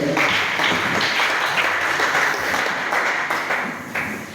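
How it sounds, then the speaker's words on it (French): Church congregation applauding together in steady, dense clapping that fills the space, holding strong and even before easing off slightly toward the end. "Acclamez pour le Seigneur"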